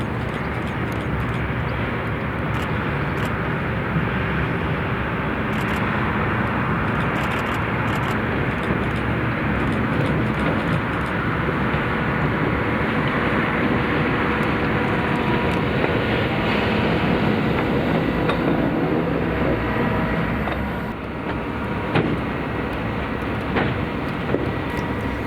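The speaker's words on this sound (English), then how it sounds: "This is a on-track excavator that was returning down the branch from the engineer site" An on-track excavator runs along a Scottish railway branch line, its engine a loud, steady, broadband roar that holds for the full span and eases slightly near the end.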